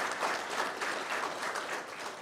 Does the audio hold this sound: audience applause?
yes